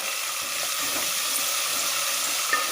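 Coriander leaves added to garlic frying in oil produce a continuous close sizzle with faint stirring, steady and fairly loud without any voices.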